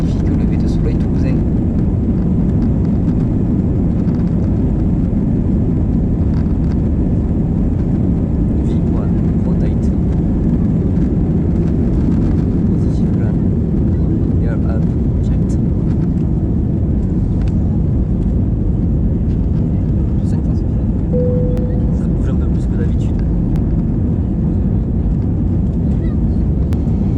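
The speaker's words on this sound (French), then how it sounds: "environ 30 secondes d'accélération en vue d'atteindre les environ 250 km/h nécessaires pour le décollage de notre 320" An Airbus A320 accelerating down the runway for takeoff at sunrise in Toulouse: a loud, steady, deep roar that holds for the full half-minute without letting up.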